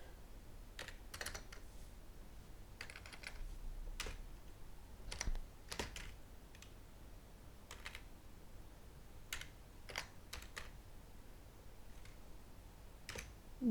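Zip code being typed on a computer keyboard: scattered bursts of key clicks in uneven rhythm, close and fairly quiet, with pauses between keystrokes and no talking.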